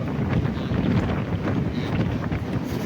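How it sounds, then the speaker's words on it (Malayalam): Steady wind buffeting roars over a continuous low rumble of a moving MEMU train near Changanassery in Kerala, with faint light-rain pattering texture throughout; loud and unbroken, no voices. "നല്ല ചാറ്റലും ഒരു കാറ്റുമൊക്കെ ആയിട്ട് നൈസ് മൂഡിലാണ് നമ്മളെ ട്രെയിൻ ഇപ്പോൾ പൊക്കോണ്ടിരിക്കുന്നത്"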